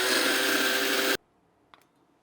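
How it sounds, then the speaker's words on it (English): A spice grinder whirs loudly, grinding whole cumin seeds for about a second, then cuts off abruptly, leaving near silence with one small click. "You can buy it ground, but we're gonna grind it"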